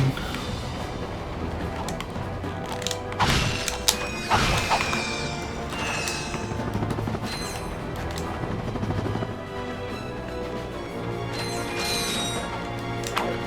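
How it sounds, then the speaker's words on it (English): A bolt crank being turned in the Ratchet and Clank video game gives repeated mechanical ratcheting, creaks and metallic clunks over busy game ambience, fairly loud and steady. "Bolt cranking."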